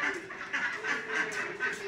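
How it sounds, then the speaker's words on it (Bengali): Several ducks in a village yard quack loudly and continuously at close range, overlapping in a busy, nasal chorus with no clear breaks. "এই যে মায়ের হাঁস সকাল সকাল খুঁজ যাবে"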